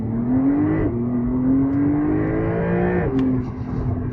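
A 2025 Porsche 911 Targa, a base 992 with all-wheel drive, accelerates hard. The engine note climbs steadily and drops at two quick upshifts, loud and close throughout with no talking.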